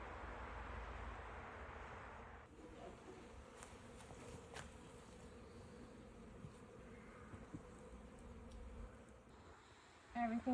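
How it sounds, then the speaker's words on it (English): Dense, continuous buzzing of many bees around a hive on an Alaska homestead, steady and close, with a few faint voices and handling sounds near the end. "The bees are happy."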